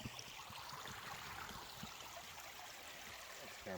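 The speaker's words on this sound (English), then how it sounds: "this one is a bigger creek, really pretty." A bigger creek in the Allegheny Forest flowing steadily near a campsite, a constant broadband rush of moving water close by with no talk.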